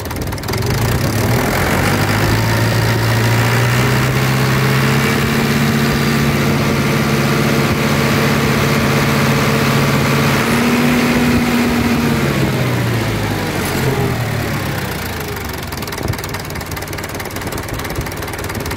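An IHC 644 tractor's engine, being checked after its generator was serviced, runs close and loud as its revs climb to a higher steady speed, holds there, then winds back down toward idle. No talking is heard.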